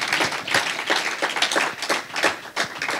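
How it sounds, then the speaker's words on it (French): A church congregation clapping their hands for the Lord during worship, a crowd of fairly quick, steady hand claps at moderate volume running throughout with no pauses. "Clap your hands for the Lord"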